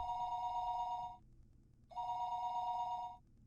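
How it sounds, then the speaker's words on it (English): Telephone bell ringing unanswered: two long rings separated by a short pause, clear and moderately faint in a quiet room, with no voices. "listening to the dial tone. Pick up. Come on, pick up!"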